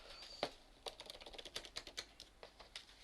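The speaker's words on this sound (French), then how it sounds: "Oh, le clavier par contre est satisfaisant." Fingers type on a smooth Logitech computer keyboard, a close run of light, quick key clicks in an uneven rhythm with no talk.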